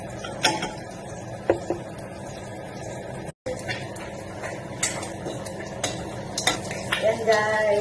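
Egg cooking in a frying pan on a home stove before sisig is added, with a steady low sizzle under repeated utensil clinks and stirring scrapes against the pan, fairly close.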